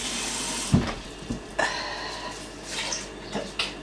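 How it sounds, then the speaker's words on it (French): Water poured into a cooking pot during home batch cooking, a short splashing pour with a few drips and small knocks, close and fairly quiet. "Et je mets aussi 25 centilitres d'eau."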